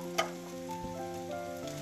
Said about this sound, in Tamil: வெங்காயம் இந்த மாதிரி கண்ணாடி பதத்துக்கு வதங்கணும்னா அடுத்ததா நம்ம காய்ங்களை சேர்த்துக்கலாம் பீன்ஸ் கேரட் முட்டைக்கோஸ்